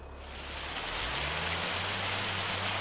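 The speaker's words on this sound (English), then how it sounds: "Whoa, look at that rain. Just all of a sudden, boom." A sudden outdoor rain shower swells from a soft hiss into a steady, dense wash of falling drops, close and broadband, with a low engine-like hum underneath.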